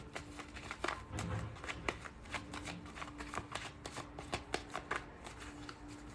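Tarot cards are shuffled by hand in a continuous run of quick, crisp riffling flutters and soft slaps, close up and fairly quiet, with no talking.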